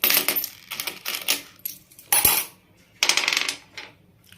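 Coins drop into a glass in a kitty party game, each bright metallic clink landing in quick clusters with short pauses between, close and loud with no talking.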